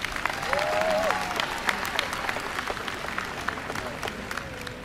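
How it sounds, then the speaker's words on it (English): Audience applause at the 2025 Howard University graduation ceremony, a steady wash of clapping from a large crowd that swells early and holds, with a few brief cheers or whoops rising above it. "So please, let's give all of them a round of applause"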